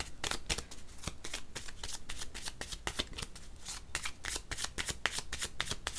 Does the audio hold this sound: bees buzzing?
no